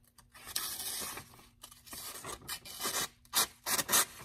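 Broadhead blade stropped by hand, giving a rough, rasping shh rubbing in repeated strokes of uneven length, close and fairly loud, building toward sharper bursts near the end.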